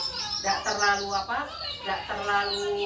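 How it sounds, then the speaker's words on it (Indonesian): Birds chirp and cluck in the background while a person keeps talking over them. "karena di tempat saya ini kan ada burung, ada macam-macam di sini ya"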